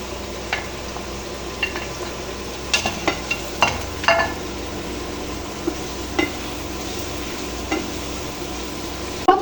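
Chicken pieces frying in a pan of cooked-down spice paste for chicken rezala, a steady soft sizzle broken by scattered scraping and clacking as a utensil stirs them.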